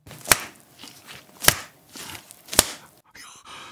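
Sticky raw beef mungtigi, fresh-cut Korean beef, slapping down three times in a steady rhythm, each a sharp, close, wet smack, followed by a brief softer rustle.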